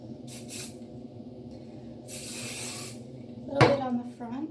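Hairspray hisses from an aerosol can onto hair in a few separate bursts, one short, one longer, a brief puff near the end, close and clear, with light handling noise between bursts.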